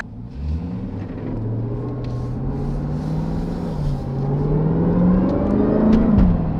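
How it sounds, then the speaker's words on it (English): A Jeep Grand Cherokee Trackhawk's stock supercharged engine revs and whines steadily, its pitch climbing and surging toward the end, loud and close with a rising supercharger whir. "Why is the Supercharger so loud stock?"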